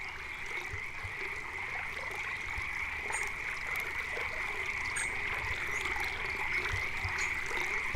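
In the video game Eastshade, frogs croak near a lily pad as a steady, shrill chorus over a soft trickle of water, with occasional faint taps. The sound stays even and fairly quiet throughout, with no voices.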